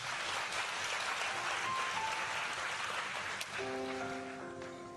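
A church congregation claps steadily for a few seconds, a dense wash of applause that thins as music enters near the end.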